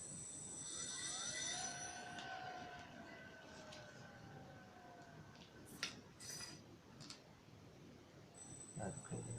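A faint brushless car fan motor whine slowly climbs in pitch as it spins up, with a few light clinks and knocks nearby.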